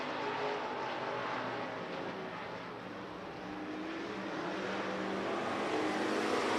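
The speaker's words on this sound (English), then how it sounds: "Gray Ferrando really trying to shake down the 98 to get a feel of that race car" Continuous roar of race car engines circling Willamette Speedway in Lebanon, Oregon, steady and loud with slight swells as cars pass, no voices.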